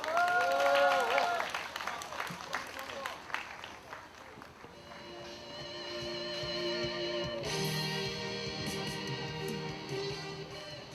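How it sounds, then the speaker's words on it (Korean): A crowd at an outdoor international peace rally in Gwangju, Korea, welcomes a pastor. A voice rings out over the loudspeakers first, then broad, steady applause builds and swells from across the gathering. "장은건 목사님을 뜨거운 박수로 모시겠습니다."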